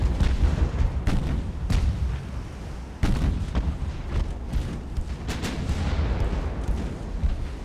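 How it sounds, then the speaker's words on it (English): Naval gunfire in Ultimate Admiral: Dreadnoughts, with a 9-inch gun among the salvos: repeated heavy booms and blasts land at irregular intervals over a constant rumbling battle background, with no voices. "That was the 9-inch firing."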